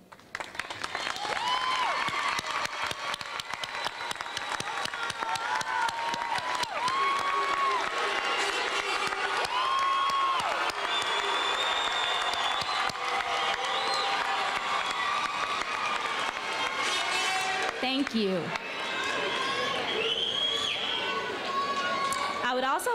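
Graduation audience applauding and cheering the standing parents and family at the 2017 David H. Ponitz Career Technology Center ceremony: sustained, dense clapping from a large crowd, loud throughout with shouts and whoops mixed in.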